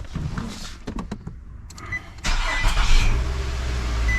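A 2012 Nissan Altima engine cranks a few times, then catches and settles into a steady idle, close by with no talking.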